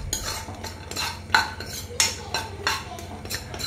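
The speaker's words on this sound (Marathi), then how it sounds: "आता तीळ, बेसन पीठ आणि शेंगदाणे आपल्याला भाजून घ्यायचे आहेत अशा प्रकारे।" A metal spoon scrapes and clinks rhythmically against a pan, stirring sesame seeds, gram flour and peanuts as they dry-roast, with repeated close, sharp scraping strokes and no talking.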